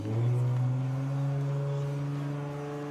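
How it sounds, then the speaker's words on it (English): A loud car engine drones steadily as it speeds past, its tone holding then slowly fading as it moves away. "so many super loud cars just flying past my window as of recent?"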